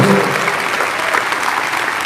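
A church congregation claps in steady, dense applause that continues throughout, loud and close.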